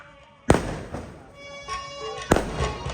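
Firecrackers set off at a home gathering for a religious recitation, with two sharp, loud bangs about two seconds apart, each followed by a short crackling tail and murmuring voices in the background.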